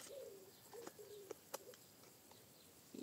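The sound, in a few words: dove or pigeon cooing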